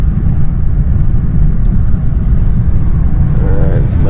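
A 2021 Ford F150 with a 2.7 EcoBoost engine drives on a test run, a loud continuous low rumble of engine and road noise heard from inside the cab with no pauses.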